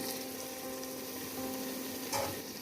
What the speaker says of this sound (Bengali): এবার দিয়ে দিচ্ছি চিকেন 500 গ্রাম। চিকেনগুলো আমি আগে থেকে ভেজে নিয়েছি।